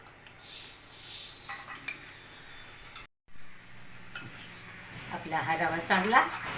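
A spoon works through semolina idli batter in a bowl with soft wet stirring and a few clinks, the scraping growing louder and busier toward the end, with a brief dropout in the middle.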